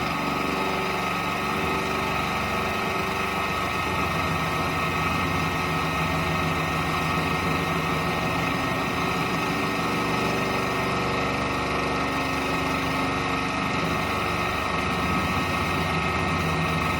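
A machine cutting into aluminum at the back of a carriage lock setup, a steady loud mechanical droning whine with constant vibration, running alone without pause.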